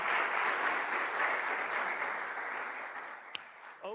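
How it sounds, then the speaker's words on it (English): An audience at a televised political debate event applauds to welcome guests, a steady wash of clapping heard from a distance that slowly fades. "Could we give them a warm round of applause and welcome for being here tonight?"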